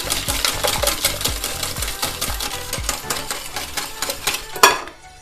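An egg mixture with salt and anise liqueur is beaten by hand in a bowl, giving quick, regular clinking strokes close by, then a final clatter and sudden quiet.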